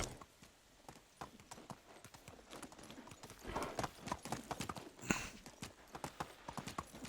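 Horse hooves clip-clop as a rider moves along in Medieval Dynasty, in a quick, steady, close-up rhythm of sharp hoofbeats that grows a little louder midway, with no talking.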